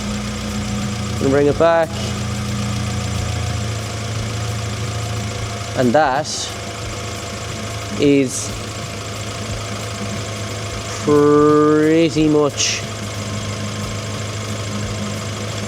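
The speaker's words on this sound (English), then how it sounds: "You hear the difference the way the engine is running now." A Nissan S14 car engine idles steadily throughout, with someone talking over it in brief bursts.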